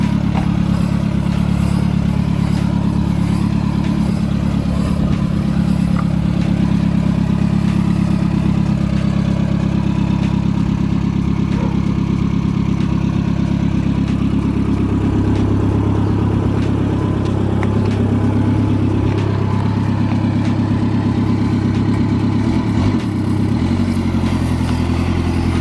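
An NSU vehicle engine runs close by, holding a loud, steady, throbbing idle with mechanical clatter and slight changes in pitch.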